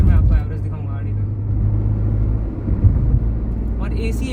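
A car cruising on the road with its engine running and the air conditioning on its first setting, a steady low rumble and road noise filling the cabin throughout, with a voice speaking over it.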